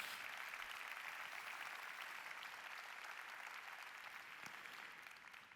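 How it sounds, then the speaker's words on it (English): A conference audience at a travel industry main stage gives a big round of applause for staff and award winners, a continuous crowd clapping that stays full and steady, very quiet in level, before tapering slightly. "Let's do one more big round of applause for the GBTA staff and"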